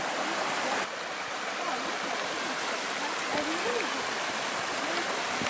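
Creek water rushes steadily where Tinstone Creek meets the Arthur River, a broad, constant hiss of flowing water filling the whole clip, with faint voices barely audible underneath.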